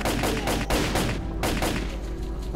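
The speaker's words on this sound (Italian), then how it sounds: "Sto sparando una specie di colpo singolo io." Gunfire in S.T.A.L.K.E.R. Call of Pripyat, a loud rapid string of close shots with short gaps, booming and dense, then trailing off into echo.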